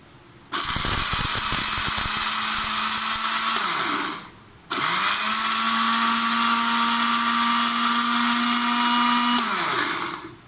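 An electric kitchen grinder whirs loudly while pulverizing whole spices for garam masala, running in two steady bursts of about three and a half and six seconds, each starting abruptly and winding down, separated by a brief pause.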